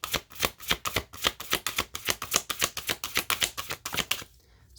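Moonology oracle cards riffle-shuffled in a fast, steady run of about two dozen crisp flutters, close and fairly loud, ending abruptly in quiet.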